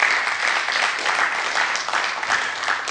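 A studio audience at a televised Azerbaijani game show applauds, dense sustained clapping from many hands that stays loud and even throughout.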